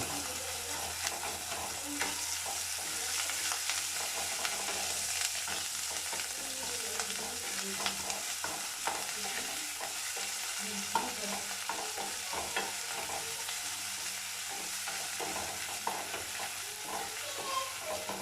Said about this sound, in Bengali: এবার সমস্ত উপকরণ খুব ভালোভাবে মিলিয়ে মিশিয়ে নেব